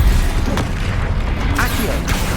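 Bombarda blasting spell exploding during combat in Hogwarts Legacy, a loud deep boom over a dense rumbling battle bed, with a couple of sharper bursts following close behind.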